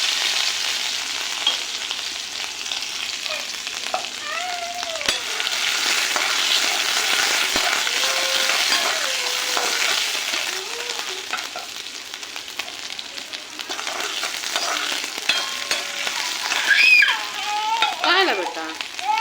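Cumin and fenugreek seeds frying in hot oil in a wok for coriander vadi, a continuous close sizzle with brief stirring scrapes and no talk.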